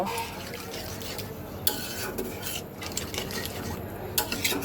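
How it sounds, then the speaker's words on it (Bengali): Gravy water has just gone into a bottle gourd and prawn curry and is being stirred, making a continuous wet sloshing and rubbing with occasional light clinks of the utensil against the pot, close and fairly soft. "এখন আমি দিয়ে দেব ঝোলের জল এবার সব কিছু একসাথে মিক্সড করে দেব"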